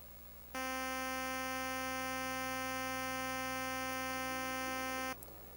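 Periodic noise from a GMC noise generator in medium mode: a steady buzzing hum with a sharp onset, holding at constant level for several seconds before cutting off abruptly.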